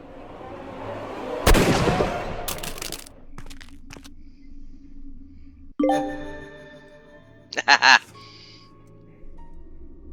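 Gunfire in the Sherlock Holmes Crimes and Punishments video game: a sharp, loud blast, then a second burst, followed by chiming game tones and a few voice-like sounds.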